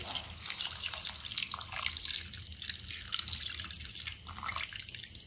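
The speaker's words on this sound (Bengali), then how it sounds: "এবার আমি জল দিয়ে দেব" Water pouring steadily into a pot of chicken stew, a continuous trickling splash at moderate volume over a constant high-pitched background whine.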